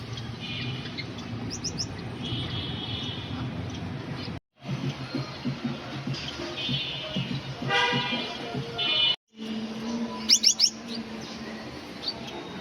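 Pet birds in an aviary give faint, scattered chirps and tweets over a low background murmur, with brief gaps in the sound.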